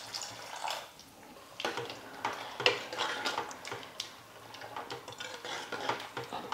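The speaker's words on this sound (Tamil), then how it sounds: "அந்த தேங்காய் பால் சேர்த்துக்கிறேன்" Coconut milk goes into a simmering pot of potato kara kuzhambu, with faint, soft liquid pouring and light clinks of utensil against the pot in a quiet kitchen.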